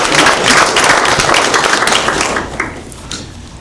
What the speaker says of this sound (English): Clap it up for the cowboy hat